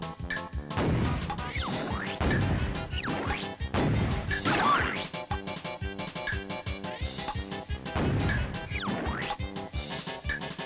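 Targets being hit in the Searchlight Seek minigame of Donkey Kong 64: repeated sharp smashing and whacking impacts over busy game music and effects, arriving in irregular bursts of several seconds, with no talk.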